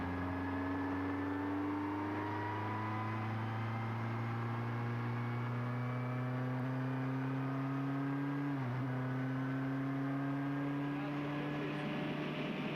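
A racing car under power through a corner, its engine holding a steady droning note with a brief dip and shift partway through, then climbing again as the throttle comes back on.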